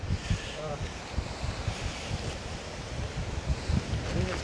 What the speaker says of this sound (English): it'd be lovely if that wind wasn't blowing down here.